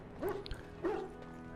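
A dog in the game Dragon Age Origins gives two short yipping barks about half a second apart, fairly close and clear over a low background hum.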